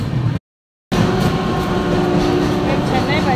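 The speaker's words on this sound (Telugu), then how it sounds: "మేము చెన్నై బయలుదేరామండి ట్రైన్కి. ప్రజెంట్ రైల్వే స్టేషన్కి వచ్చున్నాము." A train at a railway station, heard as a loud, steady rumble with a faint hum running through it, broken by a brief dropout near the start.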